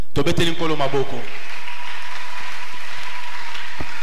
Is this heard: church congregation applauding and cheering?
yes